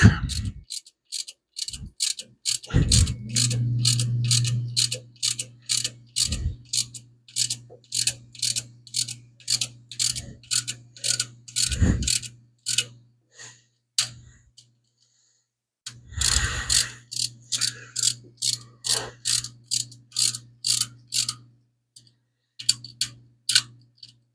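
A torque wrench with a socket fitted clicks through its ratchet in rapid rhythmic bursts while bolts are tightened up, pausing between sets, with brief low mechanical whirring at two points.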